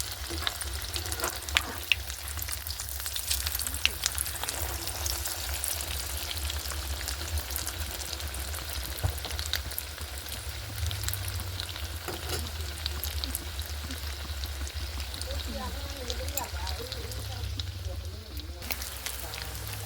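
Chicken cutlets fry steadily in a pan of oil, a continuous close sizzle and crackle that holds at an even level throughout with no clear talk over it.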